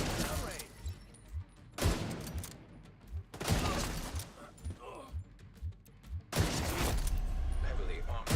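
Bursts of rapid gunfire from the zombie shooter game Army of the Dead, several loud volleys separated by short pauses, with a voice speaking between and over them.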